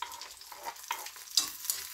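Halved chillies and garlic cloves frying over high heat in oil in a wok, a soft steady sizzle with a few sharper crackles and spatters standing out, no voices.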